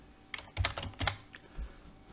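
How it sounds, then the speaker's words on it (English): A quick, soft burst of keystrokes sounds on a computer keyboard, with several taps close together and then a pause. "I'm going to type in something that's slightly wrong to begin with."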